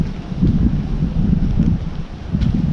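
Steady wind blowing across the microphone at Izvorul Mureșului in a mountain depression, a low rumbling buffet that rises and falls in gusts, with no voices.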